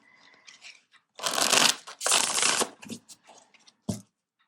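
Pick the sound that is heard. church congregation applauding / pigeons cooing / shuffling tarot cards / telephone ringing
shuffling tarot cards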